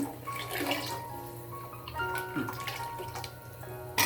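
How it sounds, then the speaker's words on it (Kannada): Water is poured into a pan of fish curry with ground fried masala, making a gentle trickling splash with faint ringing tones, close and moderately quiet, without talking. "ಇನ್ನೊಂದು ಸ್ವಲ್ಪ ನೀರು ಹಾಕಬೇಕು"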